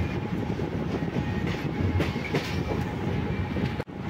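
An Alappuzha–Kollam MEMU train pulling away from Sasthamcotta railway station, heard from on board as a steady loud rumble with rhythmic wheel clatter on the rails, with a brief dip near the end.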